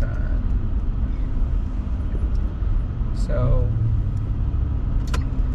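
Steady car traffic rumbles along Sheikh Zayed Road in Dubai, a continuous near roar of engines and tyres from inside a slow-moving vehicle, with a brief voice over it.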